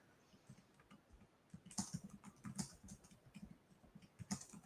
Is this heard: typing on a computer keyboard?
yes